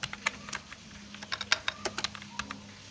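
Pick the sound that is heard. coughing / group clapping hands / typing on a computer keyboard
typing on a computer keyboard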